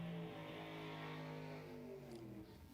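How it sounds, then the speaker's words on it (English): A 557 cubic inch big-block Ford V8 in a former police Crown Victoria at a drag race hums with steady low harmonic tones, its pitch easing downward near the end, heard faintly at a distance with no talking. "that's a Crown Victoria. It does have a 557 cubic inch big block Ford in it."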